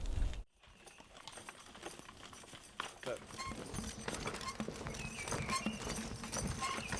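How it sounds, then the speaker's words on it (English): A couple of horses walk along a woodland track in Broxbourne Woods, hooves clip-clopping irregularly at moderate distance amid rustling and outdoor noise, with people talking nearby. "We just met a couple of horses on the track"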